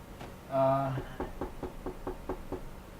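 Knocking on a door: a run of about seven evenly spaced raps from roughly 1.2 to 2.7 seconds, moderately loud and close, after a brief tonal sound at the start.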